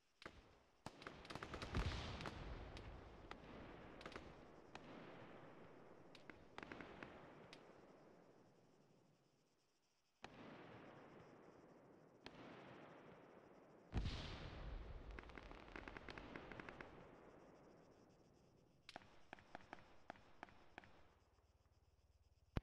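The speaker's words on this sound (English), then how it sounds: "Watch out, HMG rounds coming in." Heavy machine gun rounds in Arma 3 strike nearby as sharp, loud cracks and booms, each trailing off in a long rumbling echo, coming in irregular bursts with rapid clusters of smaller impacts toward the end.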